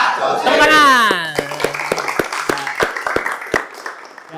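Sparse, uneven claps from students in an automotive vocational classroom at SMK Veteran 1 Sukoharjo, coming right after a raised, drawn-out voice and thinning into scattered individual hand claps.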